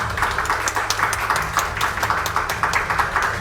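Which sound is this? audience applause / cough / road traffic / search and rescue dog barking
audience applause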